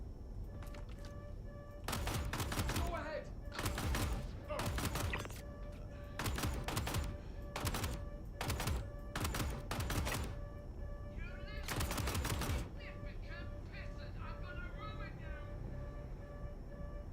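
Sharp bursts of video-game gunfire lay down covering fire, coming in rapid clustered volleys with short pauses between them over a steady low background.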